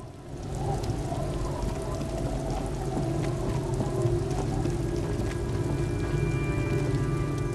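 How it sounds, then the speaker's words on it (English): Steady rain falling in the game Disco Elysium, a dense constant wash of drops with a low rumbling bed, even and unbroken throughout. "It's getting late, and it's raining."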